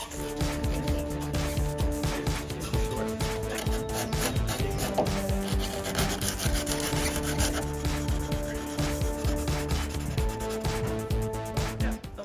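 Continuous scratchy rasping of sandpaper worked back and forth over the epoxy-coated pop-top roof of a VW Vanagon, steady and close, with faint clatter in the background.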